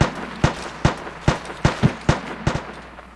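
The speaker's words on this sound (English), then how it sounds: "That is definitely two guys with different weapons shooting." Sharp, evenly spaced gunshots in the Daizy Factions game, about nine loud cracks with some doubled shots, close and distinct over a low background.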